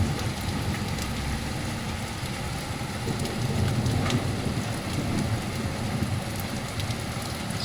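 Hail and heavy rain pelt down during an active thunderstorm over Anstey, a constant close roar of falling ice and water with a low rumbling undertone and scattered sharper impacts, with no voices.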